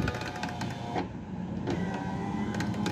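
Electric power window motor of a 2016 Toyota Kijang Innova V, a close mechanical whir running steadily with small clicks and a brief shift in tone partway through, heard without talk.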